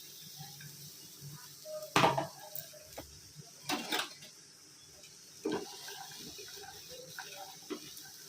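Chopped carrot, capsicum and beans are tipped into butter in a wok, giving a few distinct clattering knocks and scrapes separated by quieter stretches, with little sizzle.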